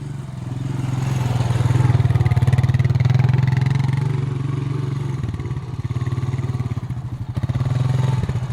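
A motorcycle ridden through an Indian village putters steadily at close range, its engine rising and falling with throttle changes and sputtering briefly near the end.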